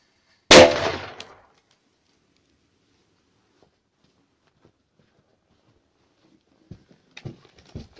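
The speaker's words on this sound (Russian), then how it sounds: "Сейчас мы будем взрывать точно такую же петарду, только, как видите, в другом месте." A blue SUPER BOMB firecracker detonates once with a single sharp, loud bang that rings out briefly and fades into silence, followed seconds later by faint scattered patters of falling debris.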